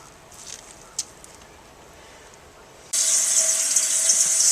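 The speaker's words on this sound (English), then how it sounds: "once you put it in your cheesecloth, you're just going to rinse it and press it" Water rinses pressed Parmesan cheese curds held in cheesecloth, a loud steady gush that starts abruptly partway through after a quiet stretch with a faint tap early on.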